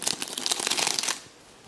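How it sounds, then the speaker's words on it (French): A packet of lace trim from an online order being unwrapped, with quick close crinkling and rustling of plastic packaging for about a second before it falls quiet. "Alors, attendez, je vais vous déballer."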